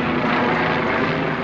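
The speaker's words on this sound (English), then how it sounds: "Yeah, it's a helicopter." A helicopter passes overhead near a parked motorhome, a loud, continuous rotor and engine roar filling the short stretch with no talking.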